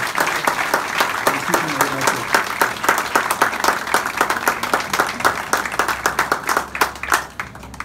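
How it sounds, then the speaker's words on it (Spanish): An outdoor crowd at a public event about a new transport route applauds with sharp, rhythmic clapping that gradually thins out, while a man briefly thanks them over it. "les pido un aplauso de ustedes para los concesionarios que están dando un tiempo"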